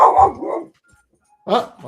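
A dog barks in two short bursts, the first a loud, close double bark and the second after a brief silence, with no other sound around them.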